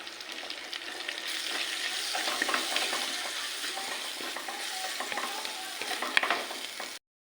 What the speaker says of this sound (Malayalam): നമ്മൾ ഉള്ളി വഴന്നു വന്നതിലേക്ക് തക്കാളി ചേർത്ത് കൊടുത്തിട്ടുണ്ട് കേട്ടോ ഇനി ഇതൊന്ന് വഴച്ചെടുക്കണം